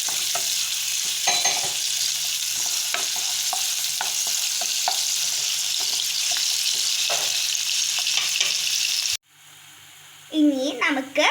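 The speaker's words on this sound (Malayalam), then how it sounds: "വാട്ടി കൊടുക്കാം നന്നായിട്ടൊന്ന്." Ingredients for kadala curry sauté in a pan with a continuous close sizzle and occasional stirring scrapes, then the sound cuts away and a voice is briefly heard at the end.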